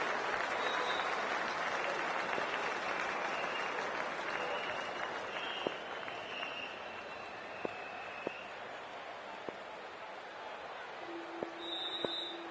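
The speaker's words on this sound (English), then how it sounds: "the players make their way out to a seismic crowd" A stadium crowd in the Cricket 24 video game roars and applauds steadily as players walk out, a broad, sustained wash of cheering with a few faint sharp clicks, and a commentator's voice low underneath.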